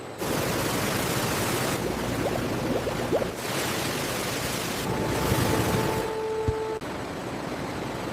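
Apples churning through a juice factory washing machine, a steady broadband wash of rushing water and machinery with a faint mechanical whine partway through, loud and continuous throughout.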